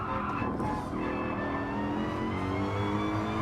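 A race car engine in Gran Turismo Sport pulls hard in second gear, a loud, close, steadily rising whine of revs with no talk over it.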